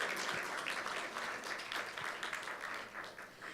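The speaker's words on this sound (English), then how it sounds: "A big round of applause for Tristram, please. Huge round of applause." Audience applause for Tristram fills a symposium hall, a steady, moderately distant wash of many hands clapping that holds evenly throughout without pause.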